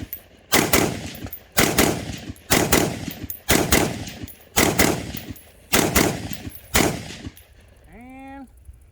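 Seven loud .223 rifle shots from an IWI Tavor X95 bullpup fired at a range, spaced roughly a second apart with a steady rhythm, each crack ringing briefly before the next.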